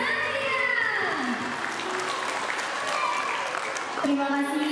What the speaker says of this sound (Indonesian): Beri tepuk tangan yang paling